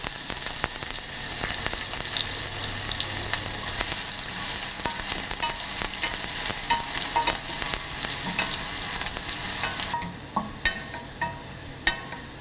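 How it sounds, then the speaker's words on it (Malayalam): Small onions sautéing with mustard seeds in hot oil for a Kerala drumstick-leaf dal curry, a steady close sizzle with scattered pops and stirring scrapes, easing to quieter sputters and a few sharp crackles near the end. "കടുക് പൊട്ടിക്കഴിയുമ്പോൾ ഇതിലോട്ട് നമ്മൾ എടുത്തു വച്ചിരിക്കുന്ന ചെറിയ ഉള്ളി ഇട്ട് വഴറ്റുക"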